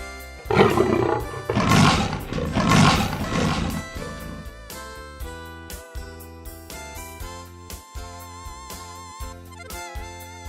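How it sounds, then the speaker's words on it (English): A tiger roars loudly and close in two long, rough bursts, then a musical background carries on alone. "tiger,"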